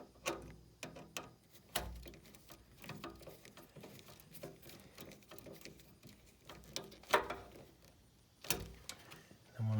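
Wires being tightened onto a Rheem gas furnace circuit board with a screwdriver: irregular small metallic clicks, ratcheting ticks and scrapes, close up and fairly quiet, with a few louder knocks.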